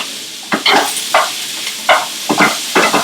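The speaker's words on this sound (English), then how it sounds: "now we can add the bacon here. Okay? And we're going to fry." Bacon fries in a stew pot, sharp sizzling bursts and crackles arriving in short irregular clusters about twice a second, loud and close with no talk.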